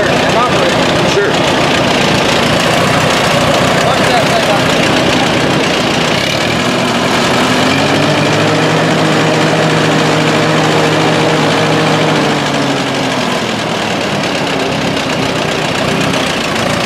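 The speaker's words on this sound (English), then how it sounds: "It'll be a little hard to hear the farmer talking at first in the interview over the noise of the engine" A tandem tractor hitched for plowing idles loudly and steadily up close, its engine drone filling the whole stretch.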